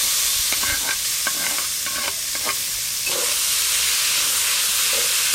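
Spice paste and chicken mince frying over a clay stove, a constant close hissing sizzle with intermittent scraping strokes of stirring, no talking.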